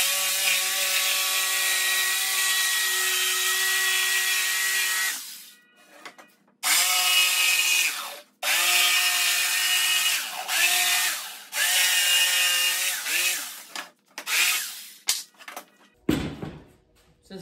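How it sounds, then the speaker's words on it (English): A jigsaw cuts through plywood in long, loud, steady buzzing runs, stopping and restarting several times with brief pauses between cuts; close and without talk, during an ice fishing Garmin LiveScope setup. "let's get the jigsaw out and let's get to cutting"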